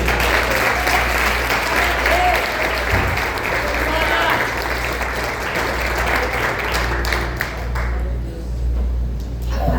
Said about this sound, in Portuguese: Receba a serva de Deus com as palmas, exaltando o nome santo do Senhor.